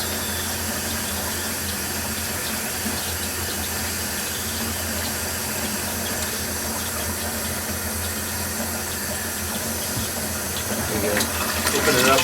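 Water pours steadily into a Panda Portable Washer, a continuous broadband rush that holds even throughout and swells slightly louder near the end, with no talk over it.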